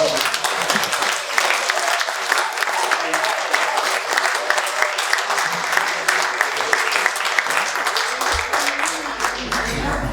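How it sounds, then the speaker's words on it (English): A crowd claps steadily at a 90th birthday party, dense applause filling the room for about ten seconds with no break. "I think we should all give them a round of applause"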